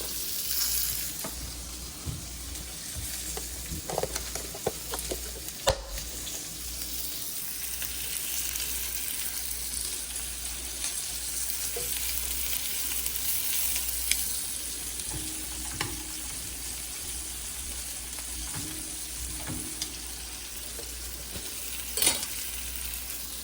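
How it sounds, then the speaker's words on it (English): Red potatoes and green onions fry in a pan with a continuous close hiss of sizzling oil, joined by occasional stirring scrapes and soft clicks, steady throughout with no talking. "So now we're going to add the green onions."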